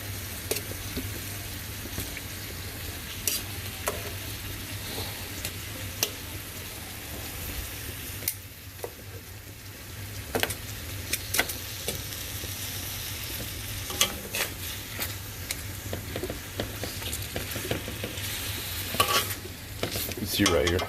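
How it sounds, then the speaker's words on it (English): Onions fry in hot cooking oil in a pan, giving a steady soft sizzle throughout, with frequent scraping and clinking stirring strokes close by. "half a cup of grease, cooking oil, on the bottom of the pan to let it heat up"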